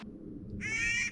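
A Clark's nutcracker calls once from the top of a tree along a mountain hiking trail, a single harsh, raspy call lasting about half a second, fairly close and clear over quiet outdoor ambience.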